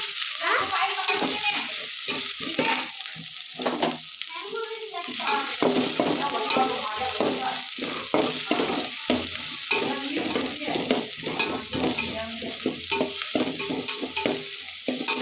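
Chopped onions frying in a pan for a corn stir-fry, a continuous sizzle with frequent close scraping and stirring strokes, fairly loud and sustained throughout.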